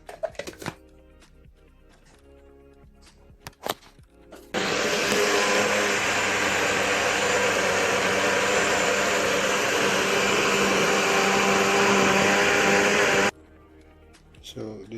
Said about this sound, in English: So I'm gonna blend the cucumber first, the pineapple and the cantaloupe first, because the blender can't hold everything one time.